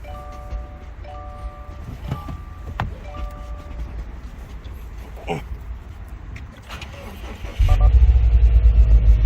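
A 2019 Subaru WRX with a fuse removed gives a series of repeated dashboard chimes and relay clicks, then cranks and starts abruptly into a loud, steady engine rumble close by.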